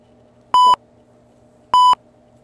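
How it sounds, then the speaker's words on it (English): Two loud electronic phone beeps, each a steady tone lasting about a fifth of a second, spaced just over a second apart in a quiet indoor room during a ghost investigation. "That was two beeps."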